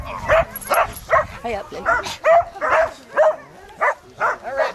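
A Bedlington Whippet lurcher dog gives a run of short, rhythmic yips and whimpering barks, close by, with someone speaking briefly among them.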